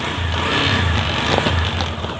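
A repaired Bajaj Discover 135 motorcycle engine idling close by, a steady low mechanical hum with even, smooth running and a few light metallic ticks, loud and uninterrupted, without anyone talking.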